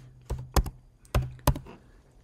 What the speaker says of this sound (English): I'm going to type dancer on the lake